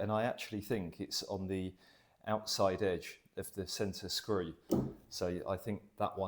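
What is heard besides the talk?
No distinct noise like a dog, phone or traffic.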